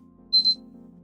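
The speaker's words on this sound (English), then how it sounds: "that's my first alarm." Two short high electronic beeps of an alarm, close and clear, sounding during a live day-trading session over a quiet low hum.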